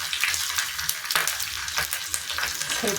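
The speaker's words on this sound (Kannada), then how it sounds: "ಇದು ಹಸಿದಾಗಿರೋದ್ರಿಂದ ಸಿಡಿಯುತ್ತೆ" Tempering for sambar spluttering and sizzling in a hot pan, a steady close frying hiss with sharp pops and crackles scattered throughout, heard alone with no talk.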